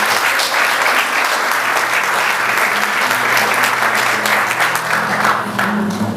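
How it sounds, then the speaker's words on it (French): Wedding guests at a celebration in Gabon break into loud, sustained applause, a dense crowd of clapping hands continuing steadily for several seconds. "je souhaite qu'on applaudisse très fort pour eux."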